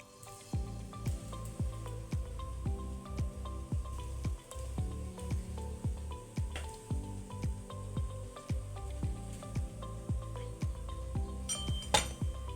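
Millet bhakri flatbread roasting on a hot griddle, with repeated close clinks and taps of a utensil over a steady sizzle, ending in a brighter scrape.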